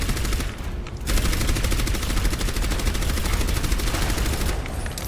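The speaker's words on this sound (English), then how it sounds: "I think Orisa's gunfire sounds punchier." Rapid sustained automatic gunfire from Orisa in the video game Overwatch, a loud continuous stream of closely spaced shots with a brief gap near the start, heard alone.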